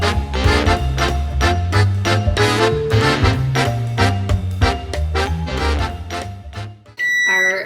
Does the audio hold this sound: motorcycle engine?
no